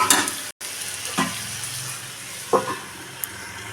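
Spicy red desi chicken is stirred as it fries in a pan on a home gas stove. A steady, close sizzle runs throughout, with a few scraping strokes of the spoon against the pan.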